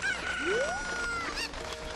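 A chicken in The Legend of Zelda: Ocarina of Time clucks and warbles over a steady background hum, with a rising squawk in the middle, close and clear, no talking.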